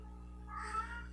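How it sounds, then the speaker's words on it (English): Sylvester, a house cat, lets out a single short meow partway through, close and fairly soft, rising out of a quiet indoor room with no one speaking. "if you hear that noise in the background, it's my cat. He tries to talk like a human."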